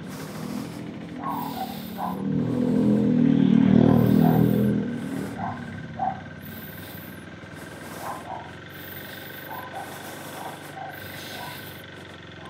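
A Vespa Sprint S150 scooter engine sputters to life and revs in a swelling burst before settling into a rough, uneven idle, heard up close with faint voices around it.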